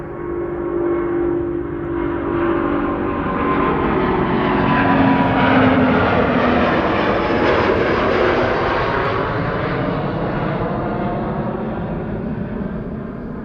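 A Qatar Airways passenger jet departing Amsterdam Schiphol for Doha roars past with a broad, rising and fading engine rumble that swells in the middle, loud and steady with no voices.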